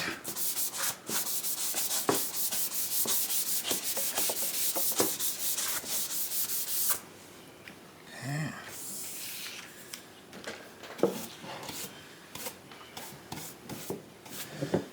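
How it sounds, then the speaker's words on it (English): Steady back-and-forth hand sanding of wood, a continuous raspy rubbing that stops partway, followed by quieter scattered scraping and handling noises. "I keep moving back and forth with my sanding"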